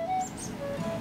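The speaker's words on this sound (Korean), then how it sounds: "새소리가 막 들려요." Birds in a greenhouse cafe chirp in a few faint, short high tweets over a soft indoor background.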